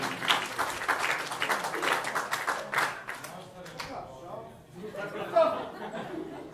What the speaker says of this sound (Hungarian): hatalmas tapsot a mennyasszonynak